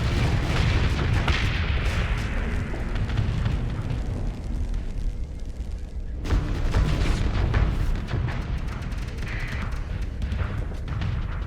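A heavy artillery barrage from the Invictus warship in the space game Starsector rumbles continuously, dense booms and bursts rolling on with a brief lull midway before the shelling surges again, loud and close with no talking.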